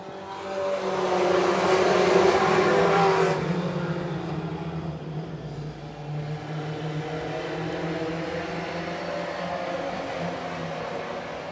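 Four-cylinder pro stock race cars roar around a short track in a close pack, engines swelling as they pass near, then holding a steady distant drone.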